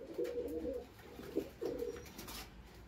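A Teddy breed pigeon coos close by in a few low, throaty rolling phrases with short pauses between them, over a quiet background.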